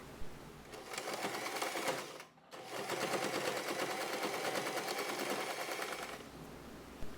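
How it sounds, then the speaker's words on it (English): A sewing machine stitches fabric for a half-oval pouch in a fast, even run of needle clatter, pausing briefly once before continuing steadily, close and moderately loud with no talking. "Connect these dots with a line and sew exactly along it."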